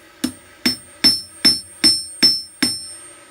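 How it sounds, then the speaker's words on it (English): Hammer blows flattening hot steel at the center of a pair of hand-forged blacksmith tongs, seven sharp ringing strikes at a steady pace, close and loud, each with a short metallic ring. "Final thing I have to do is just flatten out this piece in the center so that I can put a rivet through it evenly"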